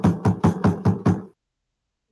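Six loud, evenly spaced knocks imitating a man rapping on a window, delivered in a steady quick rhythm close up, followed by silence.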